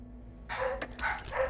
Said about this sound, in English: The dogs are being noisy.